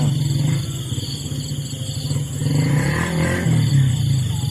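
A motorcycle engine rumbles and revs, drawing nearer and growing louder toward the end with a low, steady throb and some clatter, heard on its own without talk.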